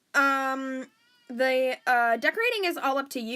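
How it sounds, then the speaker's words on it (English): A house cat meows several times, drawn-out and tonal, close by and fairly loud, while a person talks over and between the calls. "that was my cat in the background."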